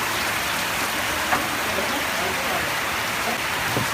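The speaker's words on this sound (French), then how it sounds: "Regarde la pluie là, comment il tombe." Steady rain falls outdoors in bad weather, a continuous even hiss filling the whole stretch with a few faint knocks and drips; a voice seems faintly present beneath it.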